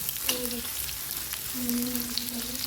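Ridge gourd fries in hot oil on a tawa, a steady soft sizzle heard close with faint stirring and a couple of low tonal hums in the background.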